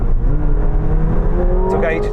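McLaren 750S and Lamborghini Revuelto supercars accelerating hard in a drag race from a 90 km/h rolling start, a loud sustained engine roar with rising tones toward the end, heard from inside a car.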